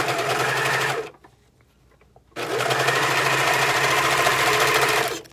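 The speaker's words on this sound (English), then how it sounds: "loop it around, leave about a 1/4 inch, and sew that together" Close, loud whirring of a sewing machine stitching an elastic ear loop onto a homemade face mask, running in a steady burst, stopping briefly for over a second, then running again steadily.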